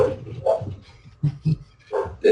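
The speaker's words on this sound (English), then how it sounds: "For anybody that hears barking" A dog gives a few short, separate barks and yips close by, spaced irregularly over a couple of seconds.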